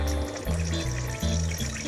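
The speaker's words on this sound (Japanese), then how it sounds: "こっちのホースから水入ってます" Water runs through the clear hose of a Kotobuki Power Box SV240X external aquarium filter just after it is switched on, a close, steady gurgling flow with shifting low tones that rise and drop in steps.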